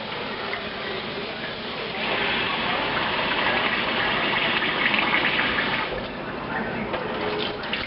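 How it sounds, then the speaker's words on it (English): Cool tap water runs steadily over a batch of homemade butter to rinse out leftover buttermilk, a continuous close splashing gush that swells louder after the first couple of seconds and holds. "Let the water run over the butter."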